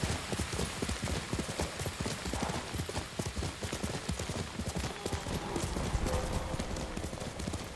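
Horse hooves clip-clopping at a steady galloping rhythm in the samurai game Ghost of Tsushima, loud and close for the whole stretch, with faint rain-like noise behind and a brief voice in the background.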